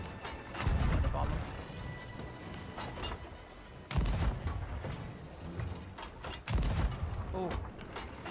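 A ship's anchor dropping in Sea of Thieves, heard as heavy mechanical clanks and a rattling chain running out, with several loud thuds over a steady rumble of ship noise and players talking.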